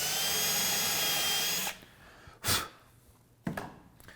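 A power drill whirs steadily as it bores a pilot hole into wooden end grain for a table top fastener, then stops, followed by two short bursts of drilling.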